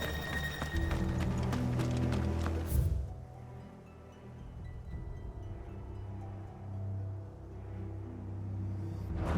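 Horse hooves in the Final Fantasy XVI video game, a rapid, close clip-clop rhythm over a low rumble at first, then settling into quieter, scattered hoof thuds and background rumble.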